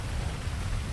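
Rain falls in the GTA 5 game world, a loud, steady, broadband hiss with a heavy low rumble, continuous and unbroken.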